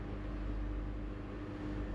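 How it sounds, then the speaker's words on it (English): A worn, tired truck engine turns over and idles after a jump start during a roadside breakdown callout, a steady low rumbling drone filling the whole stretch at close range. "That sounds absolutely knackered, that engine."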